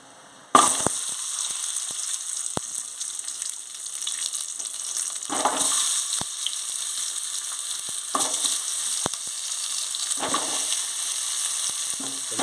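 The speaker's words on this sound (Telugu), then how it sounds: "మనం కట్ చేసి పెట్టిన పీసెస్ని ఈ నెయ్యిలో వేద్దామండి" Cut yellow pumpkin pieces drop into hot ghee and fry with a sudden loud sizzle, followed by steady crackling and bubbling, with occasional sharp pops and stirring bursts throughout.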